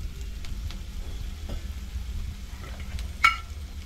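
Chana dal and turmeric being sautéed in a pan for padwal chana dal bhaji, a soft steady sizzle with occasional stirring scrapes and one sharper clink near the end, no talking.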